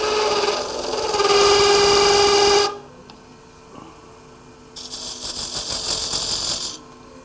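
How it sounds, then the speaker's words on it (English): Bedan tool cuts a tenon on wood spinning on a lathe, a steady close scraping rasp with a whining hum that runs for about three seconds, stops, then returns more faintly. "So with my bedan, I'll just make like a tenon on each end."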